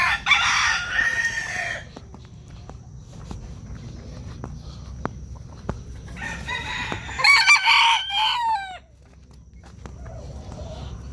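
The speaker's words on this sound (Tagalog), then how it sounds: "Kain natin yung ating mga manok naman" Chickens cluck close by and a rooster crows loudly twice, with scratching footsteps and scattered clucks in between.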